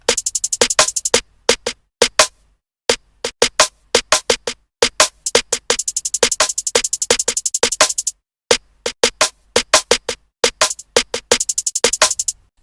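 A programmed drum beat, made in FL Studio, pounds out hard, punchy hits in rapid bursts and sparse gaps, with loud crisp transients, short pauses between phrases and no voices.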